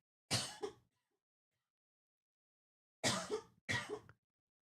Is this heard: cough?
yes